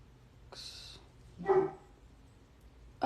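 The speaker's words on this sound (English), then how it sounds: "why are you barking, my dear?" A dog gives a few short barks, separated by pauses, fairly close and not very loud, with a brief spoken word at the start.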